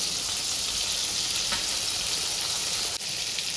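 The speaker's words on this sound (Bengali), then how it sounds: "একটুখানি লাল লঙ্কা দেবো, কষিয়ে নিই ভালো করে।" Cumin, chilli and turmeric sizzle steadily in hot oil in a pan, a loud, continuous frying hiss with no voices.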